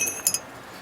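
Small metal parts of a diesel fuel filter housing, a spring and washer, give a couple of faint, quick clinks close by.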